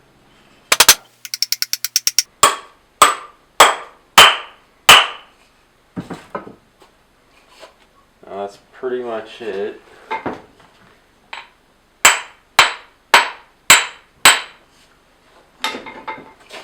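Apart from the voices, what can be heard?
hammering wedge into hammer handle eye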